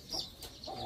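Chickens in a village coop give a brief burst of soft clucks, close and fairly quiet, over a second or less.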